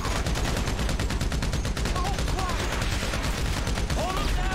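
Gunfire rattles almost without pause during a police shootout in Grand Theft Auto V, with dense rapid bursts and sirens wailing behind them. Shots stay loud and close the whole time.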